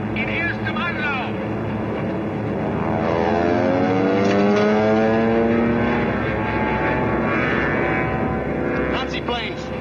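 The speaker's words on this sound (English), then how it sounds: "They're enemy planes, sir." German World War II aircraft fly overhead in a submarine war film, a loud propeller-engine roar swelling and sweeping past with a shifting pitch, mixed with other noise.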